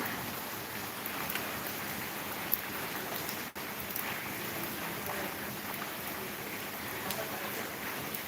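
Heavy rain pours over flooded lanes in Dhaka, a steady, dense hiss of drops on surfaces that holds evenly throughout, with one brief sharp knock partway through.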